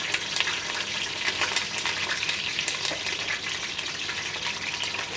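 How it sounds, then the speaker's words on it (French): Endives braising in oil in a hot pan give a steady, dense sizzle and crackle with spattering pops throughout, close and continuous, with no voices. "Je fais braiser les endives."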